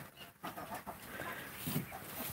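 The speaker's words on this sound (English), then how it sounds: "You're looking at a turkey, four barred rocks, two Rhode Island Reds, an Australarp, and a guinea hen that just crept up." Barred Rock, Rhode Island Red and Australorp chickens, a turkey and a guinea hen on a farm make steady clucking and bird calls over a constant outdoor background.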